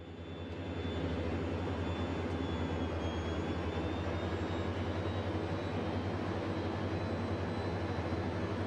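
A simulated airplane engine in Microsoft Flight Simulator roars at full throttle during a climb, a loud, steady drone that swells in the first second and then holds unchanged, with no talk.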